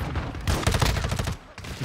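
Automatic gunfire in Modern Warfare 2, played with a controller: a rapid run of sharp shots in a dense burst, loud and close, briefly broken near the end.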